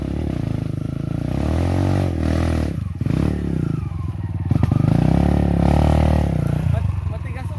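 A dirt bike climbs a mountain trail on Mt. Paldingan, its engine loud and close, revving and bogging in uneven surges with clattering and scraping over rough ground, while someone talks over it.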